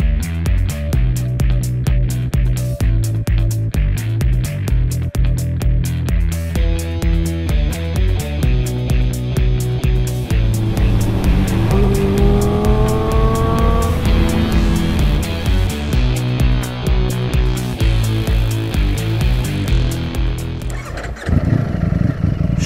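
A Ducati Streetfighter V4S, a V4 super naked motorcycle, is started and ridden, its engine loud and close with a throaty idle, blips and rising revs through gear changes.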